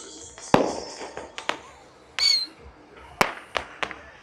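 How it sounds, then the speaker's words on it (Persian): Fireworks and firecrackers go off at a crowded nighttime Chaharshanbe Suri street party in Iran, with sharp cracks and pops at irregular intervals, some near and loud, plus a brief whistling shot over the crowd's background murmur. "چیزی داره شلیک میشه"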